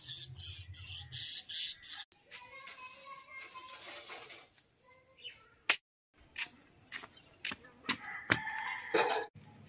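Pet parrots squawk in their new cage at home, sharp harsh calls coming in close, loud bursts with short gaps, mixed with some handling clatter.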